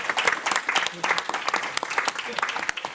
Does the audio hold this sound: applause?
yes